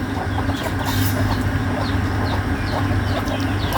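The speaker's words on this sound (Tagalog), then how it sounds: "pakain, patukan na ng manok." Chickens clucking close by as they feed, over a steady droning background noise, with scattered short calls throughout.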